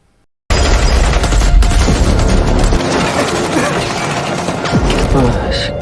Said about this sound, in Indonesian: Dan dia mendapatkan tembakan beruntun dari pasukan Kang Huyun.